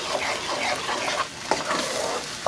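Blended chile verde sauce hits a hot pan with a loud, continuous sizzle and bubbling spatter, close up, with no talking.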